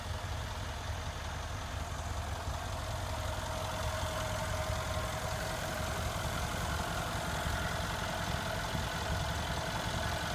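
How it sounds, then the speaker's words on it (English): A 2015 Mercedes-Benz E63 AMG S-Model 4Matic sedan idling, a steady low engine rumble with a constant hum, close and even throughout with no voices. "Beautiful engine. It is very powerful and impressive."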